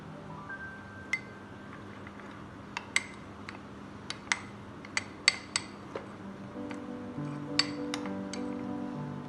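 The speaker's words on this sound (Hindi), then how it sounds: "मैंने अच्छा सा मिक्स कर लिया।" Spoon clinking against a bowl while mixing lemon juice with masala spices for chicken achari; a series of light, irregular metallic taps, close and fairly faint, with no talk.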